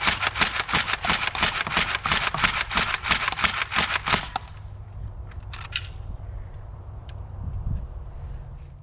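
An X-Shot Pro Series Longshot toy foam blaster slam fires in a fast, loud run of about fifteen sharp snapping shots over four seconds, then falls to quiet handling and faint room noise.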